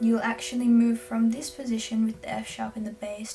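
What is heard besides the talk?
No everyday noise stands out behind the speech.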